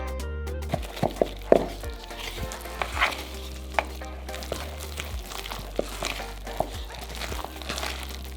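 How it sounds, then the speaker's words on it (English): Vegan banana bread batter is stirred in a large bowl, giving wet, sticky mixing sounds with scattered soft clinks of the utensil against the bowl over a steady low hum. "Mix everything into a smooth, tasty batter."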